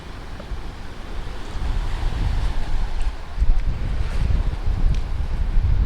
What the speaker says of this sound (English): So this is one of the beaches at Punta de Mita.